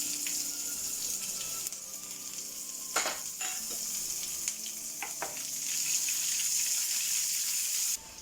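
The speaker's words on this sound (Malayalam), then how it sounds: "നമുക്ക് ഉള്ളിട്ട് കൊടുക്കാം." Onions fry in a cooker for a prawn, drumstick and mango curry, giving a steady close hiss of sizzling oil broken by a few spoon clicks and light knocks of stirring.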